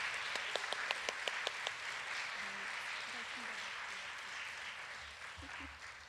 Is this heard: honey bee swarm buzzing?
no